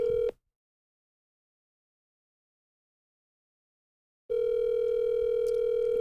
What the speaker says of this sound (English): why is this thing ringing?